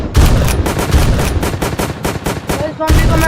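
Rapid bursts of video-game gunfire shooting zombies in Zombie Rush, loud, close and rhythmic, shots crackling in quick succession with a brief pause before another volley.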